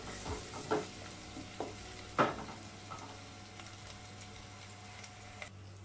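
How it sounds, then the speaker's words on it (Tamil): Onions frying in a pan for plain kushka biryani, a soft continuous sizzle under scattered scraping and clinking strokes as they are stirred, fairly faint and close. "இப்போ வெங்காயம் நல்லா வதங்கிடுச்சு."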